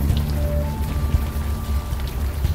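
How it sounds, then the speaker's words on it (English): Steady rain falling in the Manhattan streets of the point-and-click adventure game Unavowed, a continuous soft patter with a low rumble beneath and a faint tonal hum, evenly loud throughout. "Still raining."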